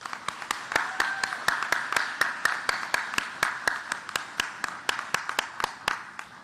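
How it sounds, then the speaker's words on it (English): Audience applause at a human rights celebration gala, steady rhythmic clapping from a crowd filling the room, loud and sustained throughout with no talking over it. "Please give her a huge round of applause."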